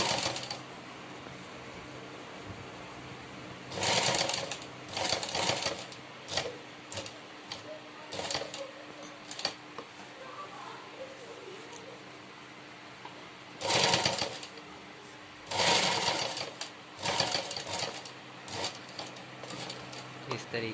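A sewing machine stitches piping along the neck and sleeve openings of a garment, running in short, loud bursts separated by quieter pauses with some talk in between.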